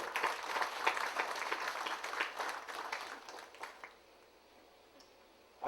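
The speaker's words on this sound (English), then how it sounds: "join me in a hearty round of applause" An audience at the opening of a labour college claps in a dense burst of applause that thins out and fades to near silence after a few seconds, with scattered final claps.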